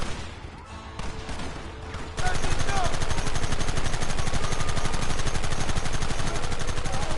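Dense, continuous gunfire from massed rifles and machine guns in the Red Dead Redemption finale battle, loud and close, erupting after a short stretch of quieter voices and then rattling on without pause.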